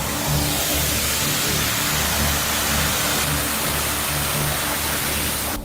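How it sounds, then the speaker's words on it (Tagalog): A steady, loud broadband hiss of pressure venting from a hole in desert ground, continuous and unbroken throughout with a low rumbling undertone and no talking. "Sumisirit sa butas na to ang lahat ng pressure sa ilalim ng disyerto."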